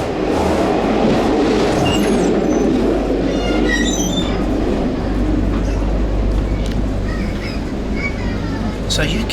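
A regular second-class Moroccan train runs with a steady low rumble and rattle of the carriage, wheels squealing faintly now and then, heard from inside the car while voices talk.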